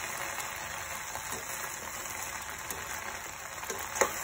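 Okra (bhindi) sizzles steadily in a pan, a constant close crackle and hiss with small pops and a sharper clink near the end, no talking.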